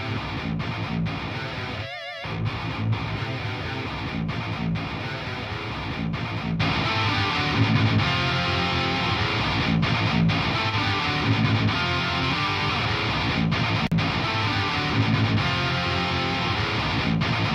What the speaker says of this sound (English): So together without this EQ, compression and Soothe, the guitar sound like this.